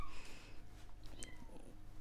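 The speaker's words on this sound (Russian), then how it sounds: "Ну, вот мяукает котенок." A kitten meows in a kitchen while onions are being prepared, a few faint high cries over low background noise.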